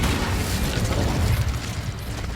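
An Incendio fire spell goes off in Hogwarts Legacy as a loud, close, rumbling burst that roars steadily for a couple of seconds and then eases slightly. No one speaks.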